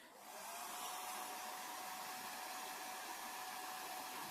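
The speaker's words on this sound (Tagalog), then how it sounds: "Iwan natin itong blower natin, heater natin." A car's heater blower runs on high, a steady, loud rush of hot air, a constant broadband whoosh that starts softly and holds even throughout with no voices.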